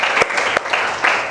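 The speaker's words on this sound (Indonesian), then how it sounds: "kita kasih tepuk tangan kepada kelompok 1." Brief applause for a student group after their presentation in a classroom teaching session, with a few sharp claps over a steady patter, loud and close.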